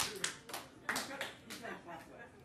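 A conference keynote audience claps in a rhythm exercise, scattered bursts of hand claps landing in loose groups over a murmur of chuckles, with no one speaking.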